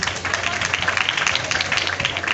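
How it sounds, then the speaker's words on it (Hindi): An audience claps for blind students at a BINAE Education Foundation performance, a close, steady patter of many hands throughout the moment. "अपने लिए तालियां बजाइए।"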